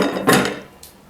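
A metal strainer and a plate are set down on a kitchen counter, giving a couple of sharp clinking clatters, the first louder, the second lighter, up close with no talk.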